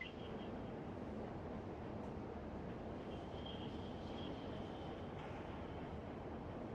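A model train in a video game rolls along its track, giving a steady, even rumbling hum that carries unchanged from start to finish with no voices over it.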